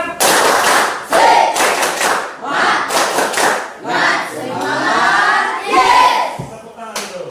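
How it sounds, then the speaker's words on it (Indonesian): A group of children performs a spirit clap chant, shouting in unison in a loud, rhythmic call with sharp bursts of clapping between the chanted phrases, close and energetic throughout. "sekarang kita tepuk semangat ya"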